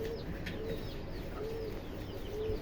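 A pair of fancy yellow helmet pigeons cooing softly, several low drawn-out coos repeating at intervals over a faint background hum, without talk.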